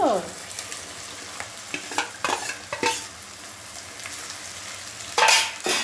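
Okra pieces sizzle as they stir-fry in a hot pan with tempering while a utensil scrapes and stirs in irregular bursts, louder toward the end.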